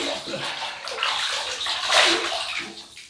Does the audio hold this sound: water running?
yes